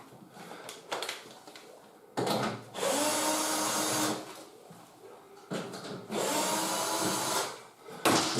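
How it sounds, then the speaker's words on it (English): Two sustained bursts of a power screwdriver spinning out screws from the pump cover of a Samsung washing machine, each preceded by brief handling clicks, close-up and with no talking. "So what you need to do is to remove these two screws"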